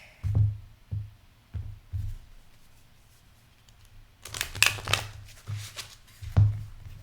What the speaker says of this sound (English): Let me just shuffle this deck.